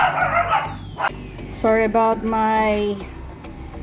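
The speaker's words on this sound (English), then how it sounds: "dogs barking" Dogs bark nearby in the background, a short run of several harmonic yelps in close succession, with a person speaking briefly just before.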